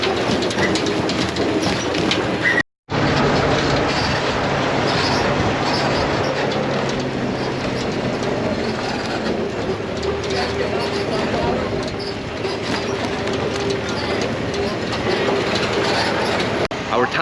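Continuous rumbling and rattling of a tractor-pulled wagon ride through an orchard, with a constant engine drone, bumpy clatter and faint voices, interrupted once by a brief cut.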